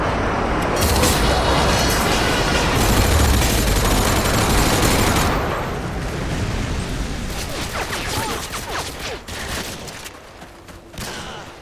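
Dense, loud rumbling barrage of airstrike explosions and gunfire in the Modern Warfare 2 multiplayer video game, a continuous roar that eases into scattered cracking shots and blasts toward the end.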